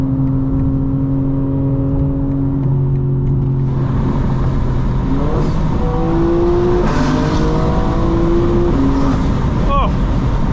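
A 2025 BMW M4 Competition xDrive engine drones steadily at cruise, then revs and climbs on a downshift to fifth gear with crackling exhaust pops, heard from inside the car over wind and road noise.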